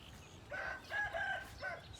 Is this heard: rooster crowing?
yes